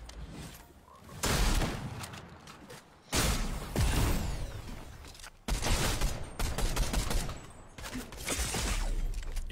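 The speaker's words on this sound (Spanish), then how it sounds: "¿Vieron esos tiros?" Bursts of heavy gunfire come in several loud volleys, separated by brief quieter gaps, with sharp cracks and booming low end.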